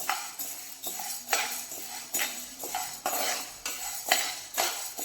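Lentils (dal) dry-roasting in a pan while a spoon stirs them, making rhythmic scraping and clinking strokes about once a second, close and clear, with a faint background hiss.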